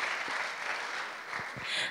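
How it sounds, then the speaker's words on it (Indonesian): Applause during an anger management workshop, a steady wash of audience clapping heard at a distance, continuous and fairly soft, with a few low knocks. "Oh ya boleh tepuk tangan?"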